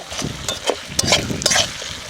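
Mutton is stirred with garlic paste in a pan, with scraping and clattering strokes over a soft sizzle, close and steady, no talking.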